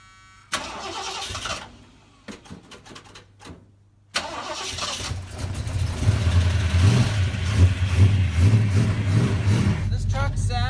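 An old truck that sat unused for years cranks after several silent pauses, then catches and revs into a loud, rising engine roar close by, with voices briefly heard early on.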